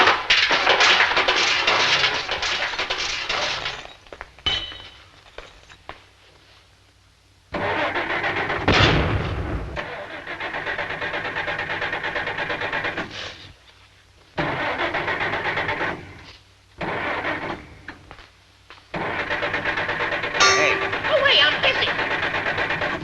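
An old car's engine cranks and sputters in loud bursts that cut out and restart several times, set in a Three Stooges comedy routine.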